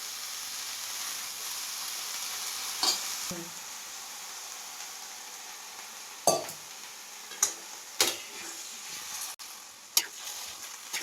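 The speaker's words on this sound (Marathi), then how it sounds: "सर्व भाजी आपल्याला व्यवस्थित मिक्स करून घ्यायची आहे" Stirring gavran harbhara bhaji, a green chickpea dish with peanut powder, chili and garlic, in a pan: a steady soft sizzle runs throughout, broken by several sharp clinks and scrapes of a utensil against the pan.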